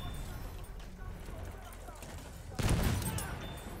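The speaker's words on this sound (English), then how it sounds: "They're shooting from every direction." Gunfire in the Battlefield 1 video game, a steady crackle of shots from several directions that swells into a louder burst near the end, with a voice talking over the action.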